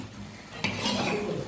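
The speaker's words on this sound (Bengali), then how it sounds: "চিংড়ি মাছ দিয়া সুন্দর কষাবো" Shrimp are stir-fried bhuna-style in a pan with radish greens, a spoon scraping and clinking against the metal over a low sizzle, with one sharp knock midway.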